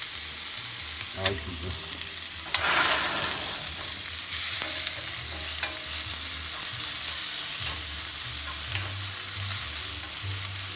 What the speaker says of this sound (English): it's good when it goes sizzle like that